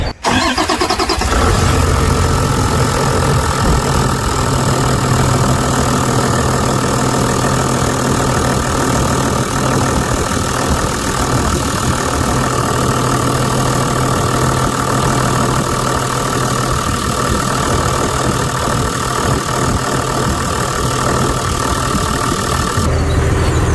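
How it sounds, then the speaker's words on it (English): A Toyota Land Cruiser diesel engine cranks and catches right away, then settles into a loud, steady, close-up idle that runs unbroken to the end without speech. "Well, let me fire it up."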